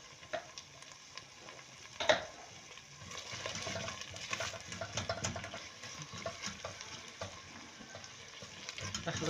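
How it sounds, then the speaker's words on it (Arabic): A spoon stirs tomato paste into spinach stew in a pot, giving a steady, faint scraping and soft sizzling with occasional light clinks, continuous throughout. "اخلط المعجون ويا السبيناغ زين"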